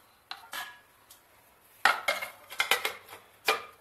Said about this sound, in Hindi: अब हम इसमें पानी डाल देंगे और इसको अच्छे से मिक्स कर लेंगे